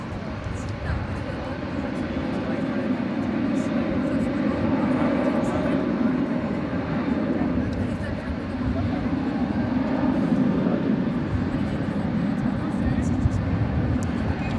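A Boeing 777 airliner bound for Los Angeles rumbles in the background at DFW Airport, a broad, sustained engine roar that swells and fades gently at a distance.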